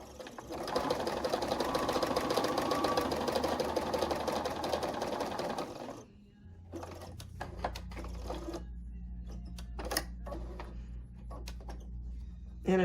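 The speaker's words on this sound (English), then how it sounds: "I'm going to sew these 2 together" A sewing machine stitching two folded fabric pieces for a flower patch runs in a fast, steady mechanical whir for about six seconds, then stops, leaving scattered clicks and handling noises.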